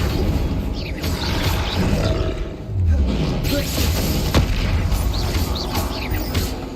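Heavy magical combat in Hogwarts Legacy as the Tremendo spell is cast during a troll fight: dense booming blasts and rumbling roars layered over continuous game noise, with a deep low swoop midway.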